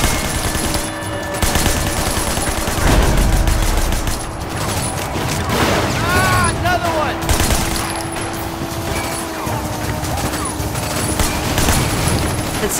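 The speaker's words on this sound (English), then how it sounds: "Shoot the tire, right?" Gunfire aimed at a car tire in the video game Sleeping Dogs, bursts of rapid shots rattling over a busy, loud game soundtrack with engine-like rumble throughout, close and continuous.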